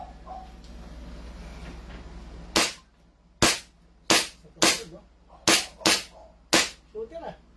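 A handgun fires seven sharp, loud shots at an indoor range, spaced roughly half a second to a second apart, after a low steady hum with faint voices in the background.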